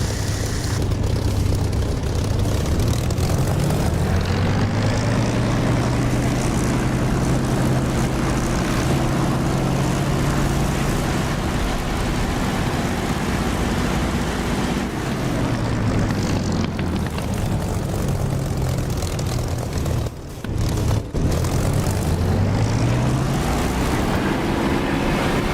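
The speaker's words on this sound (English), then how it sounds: "Doing a go around." In the DCS flight simulator, a fixed-wing aircraft engine roars steadily through a go-around, its loud continuous drone rising and dipping in pitch as power changes, with no speech.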